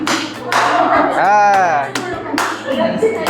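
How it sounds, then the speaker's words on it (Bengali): Several sharp hand claps at a clap-activated light tree exhibit in a Kalimpong science centre, mixed with a close voice speaking over a steady low hum. "ক্ল্যাপ ট্রি, হাততালি দিয়ে লাইট জ্বলে।"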